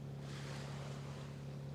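Surf on a Pattaya beach makes a continuous soft rushing wash, with some wind and a low steady hum, heard alone for a brief moment.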